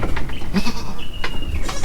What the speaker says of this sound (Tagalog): Papasukin ko muna ang mga baby kambing.